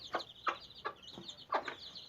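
Mother hen with her fifteen chicks at a farm, giving four short clucking calls in a loose rhythm, close and fairly quiet, with faint high chick peeps between.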